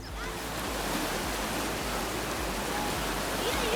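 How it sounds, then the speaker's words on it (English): A river flows in a continuous, dense rush of water, loud and close, on an outdoor nature walk, with no break in the sound. "We found the river!"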